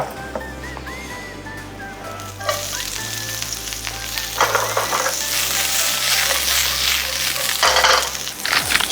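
Pork jowl frying in a pan, a dense steady sizzle that swells louder in places, with occasional clinks of utensils against the pan and no talking.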